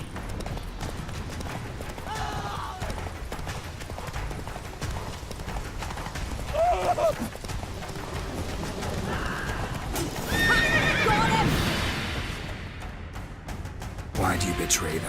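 Roach, a horse in The Witcher 3 video game, gallops with rapid clip-clop hoofbeats and gives loud neighs partway through, mixed with game sound effects and some talk.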